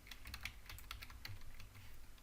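A computer keyboard types a file name while a class is created in an ASP.NET MVC tutorial: a quick run of light, close keystrokes, quiet and alone.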